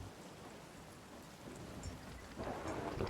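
Heavy storm rain with rumbling thunder in the pirate video game Sea of Thieves, a steady broadband downpour that swells louder near the end, with no talking.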